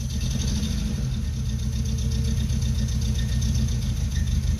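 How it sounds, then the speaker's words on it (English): An old car engine idles too low, a steady continuous low rumble with a rough, uneven pulse held close and loud throughout, no voices over it. "Idle is too low."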